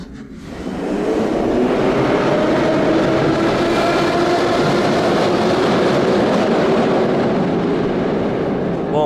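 A retro 1935-style Moscow metro train, car number 1, rumbling loudly and steadily as it runs, with a dense, continuous roar of wheels and carriage noise filling the whole stretch.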